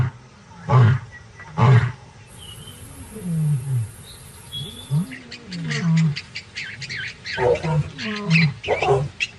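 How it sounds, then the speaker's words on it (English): A wild lion in its territory gives a series of deep, loud, drawn-out roars and grunting moans, repeated rhythmically and close by, with faint bird and insect sounds in the background. "A lion's roar can be heard up to 8 kilometers away."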